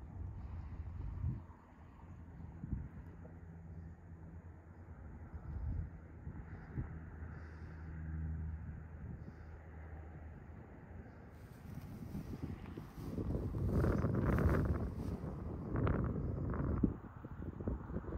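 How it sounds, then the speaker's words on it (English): Soft wind blows across the microphone on a hillside while a SoarKraft 1.2 m RC wing with an MH32 airfoil is slope-soared, a steady low rumble that gusts louder and rougher toward the end. "The wind was pretty soft on this day, but this wing had no trouble staying in the air."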